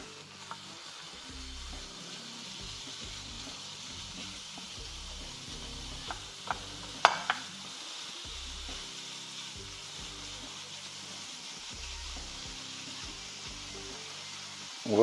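Chorizo frying in a pan for a Mexican red chile chorizo recipe, a quiet steady sizzle with occasional scraping and stirring clicks, no talking.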